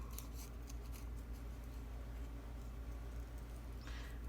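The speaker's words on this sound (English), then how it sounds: "my scissors came out of the groove because I am trying to go fast" Scissors snipping through paper while trimming a hidden journaling space in a corner tuck, a steady close rasp of hurried cutting under a low background hum.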